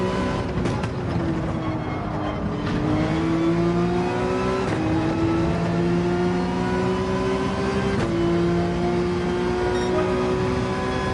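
Racing car engine droning loud and close through a lap in Gran Turismo 7, with a sustained whine that rises through each gear and drops sharply at the shifts, steady and unbroken throughout.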